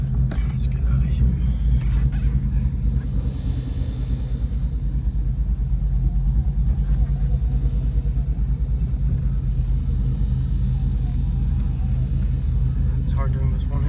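A Ford in sport mode with stainless power headers and a Ford Performance by Borla catback exhaust, a loud, steady, deep rumbling drone held close throughout, with faint talk underneath.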